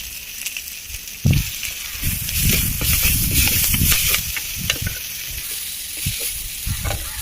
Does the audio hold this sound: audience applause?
no